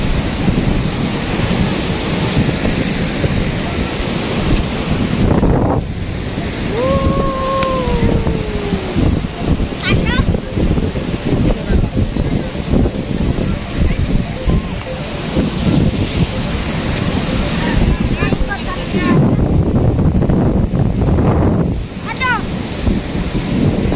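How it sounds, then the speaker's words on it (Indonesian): Strong wind and rough sea waves in heavy rain at Tanah Lot, Bali: a loud, constant roar of surf and gusting wind buffeting the microphone, with a few brief higher tones cutting through. "Hujan banget, angin, airnya juga kenceng banget ini."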